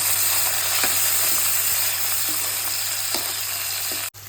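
Chopped onions fry in hot oil in a pan for a jackfruit curry, giving a steady broadband sizzle with a few faint utensil clicks, close and continuous until it cuts off near the end.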